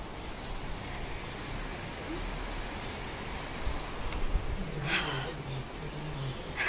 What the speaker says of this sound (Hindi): ये बारिश हमारा स्वागत कर रही है